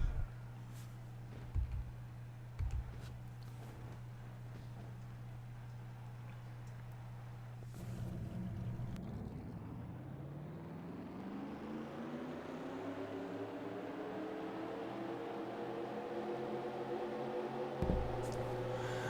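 Race car engines fire up in a racing video game at Road America, a steady low drone giving way to a rising chorus of engine tones that climb in pitch together, faint and under a quiet background.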